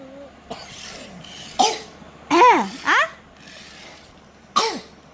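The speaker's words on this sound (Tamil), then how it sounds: "என்னடா இது இருமல்" A few short coughs and throat-clearing bursts come in quick clusters, close and fairly loud, with a voice squealing between them.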